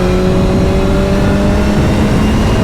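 A BMW S1000R motorcycle engine revs loudly and steadily up close, a continuous mid-pitched drone with an auto-blipper fitted, with no talk over it.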